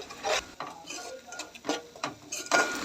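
A spoon scrapes and clinks against a pot while village-style fish curry is stirred, giving a series of irregular metallic strokes and rattles with soft pauses between them.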